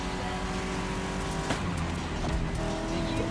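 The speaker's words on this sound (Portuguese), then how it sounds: "É um cobra, sim senhor, o carro é muito bom." Cobra sports car driving in The Crew Motorfest, a steady, close engine drone with a low rumble, holding an even level throughout with a few faint clicks and no pauses.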